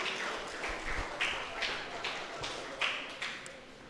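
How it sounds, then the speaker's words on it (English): A small audience at a sports club awards presentation claps for the sponsors, producing scattered, fairly sparse claps and taps at moderate volume with no voices over them. "Big round of applause for all of our sponsors."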